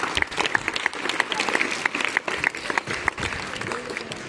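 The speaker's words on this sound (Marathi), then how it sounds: "तुम्हाला सगळ्यांसाठी एक टाळ्या वाजवा तुमच्याकडे" An audience at a gurukul event claps together, a dense steady wash of applause with sharper individual claps poking through, sustained throughout with some voices mixed in.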